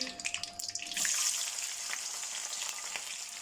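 Onions dropped into hot oil for aloo baingan, opening with a few clattering taps before a bright hissing sizzle bursts up and settles into steady close-up frying.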